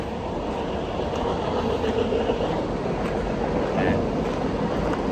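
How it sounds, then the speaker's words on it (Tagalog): Train passing near Multnomah Falls, a steady broad rumble and rush filling the whole stretch, heard alongside outdoor wind noise with no talk. "Parang may naririnig akong train. Oh, may train pa dumadaan."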